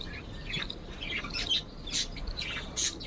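Startled black pigeons squawk in short, bright bursts, several harsh calls close by with brief pauses between them over a faint steady background.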